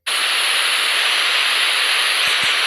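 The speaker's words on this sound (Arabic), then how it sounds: "هيسمعك صوت المية بقى، تقول ده صوت ايه." Broadband rushing water from a sound-guessing word game, a steady loud hiss like flowing or pouring water, continuous and unbroken throughout with no voices.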